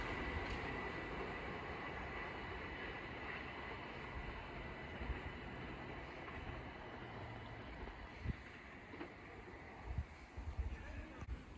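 Train 378144, a Class 378 unit, passes through Sydenham station with a steady, fairly distant rail rumble and wheel noise, occasional clunks toward the end, and no talking.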